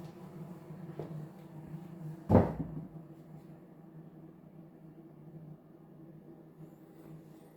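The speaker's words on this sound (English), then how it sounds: "The noise you can hear is an extractor fan up there." A bathroom extractor fan hums as a steady low drone in a room with a shower cubicle, basin and toilet, broken by a single sharp knock partway through.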